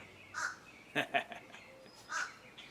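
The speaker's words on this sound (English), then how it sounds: "there comes the big raven" A big raven calls outdoors near a garden and log pile, giving a few hoarse caws at a moderate distance, with other birds heard around it.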